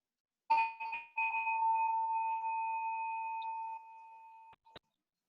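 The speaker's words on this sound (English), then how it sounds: "I'm going to just ring a bell" A single meditation bell is struck after a few quick taps, then sustains a clear steady ring that slowly fades over several seconds in a quiet room, ending with two faint clicks.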